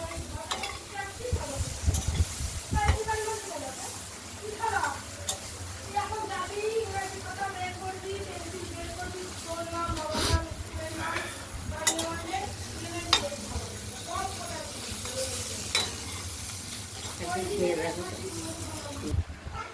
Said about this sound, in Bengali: এরকমভাবে আমরা কুমড়ো উচ্ছেটাকে ভেজে নিলাম।